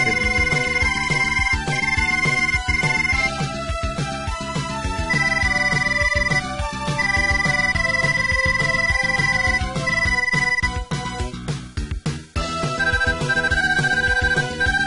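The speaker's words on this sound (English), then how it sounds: "Just listen to that awesome 16-bit sound effect." Bright, chiptune-style synthesized tones bounce in quick melodic runs over a steady beat, loud and continuous, with a brief dip near the end.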